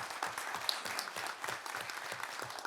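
Audience applause at a round-table session of a forum on high-level radioactive waste safety management, celebrating passage of a special law and a decision to build an underground research laboratory; steady, dense clapping from a room full of people that runs the whole time without talk.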